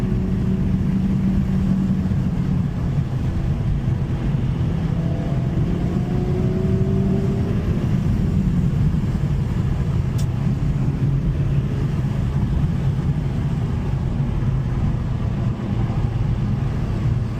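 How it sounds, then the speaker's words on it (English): A 2024 Honda Civic Type R, a front-wheel-drive car, runs steadily with a loud low engine drone inside the cabin, with a few faint pitch rises as revs are matched, and no talk. "Pretty easy to rev match yourself in this car"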